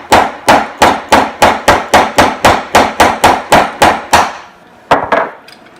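A hammer taps a knife into a block in a quick, even run of about fourteen sharp, close strikes, then pauses before two more hits, with nothing else heard.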